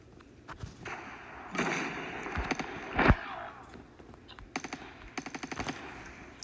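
Cordite gun firing in Call of Duty Mobile, bursts of rapid automatic fire near and loud, a sustained spray early, then a sharp shot and two quick rattling bursts later.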